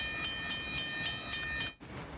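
A moving train in The Last of Us rolls along with a steady rhythmic clatter of wheels over rail joints, repeating regularly at moderate loudness, then briefly drops out near the end before resuming.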